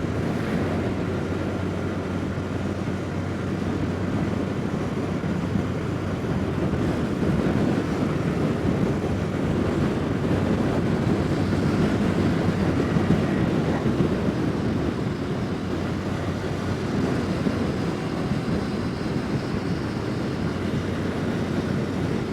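A TVS Jupiter 125 scooter climbing a flyover at about 5000 RPM, a steady droning engine hum buried under heavy, constant wind rush.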